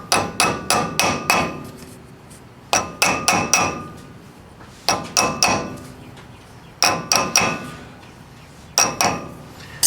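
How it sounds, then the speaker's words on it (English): Metal hammer taps seating a part against the front brake rotor of a Chevrolet C10 truck, in quick clusters of four or five sharp, ringing strikes separated by brief pauses, close and loud with no talk. "You can tap it on the end to get it set in place, and then you just tap on the edges to get it seated up against the rotor."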